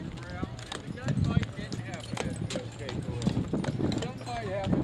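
Draft horse hooves clip-clopping on a hard surface, a steady uneven patter of hoofbeats mixed with people talking nearby.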